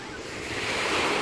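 Sea waves wash onto the beach at Cannes on the Côte d'Azur, a steady, loud surf roar that swells slightly toward the end, with some wind rumble.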